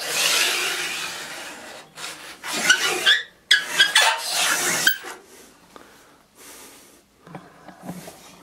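A circular saw table fitted with a new zero-clearance insert cuts wood in several rasping passes, with harsh bursts of blade contact separated by short pauses and quieter trailing strokes near the end.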